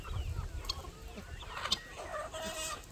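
Fast-growing homestead chickens cluck softly and intermittently nearby, quiet and close, with a few louder clucks standing out.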